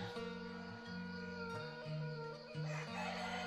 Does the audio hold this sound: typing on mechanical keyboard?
no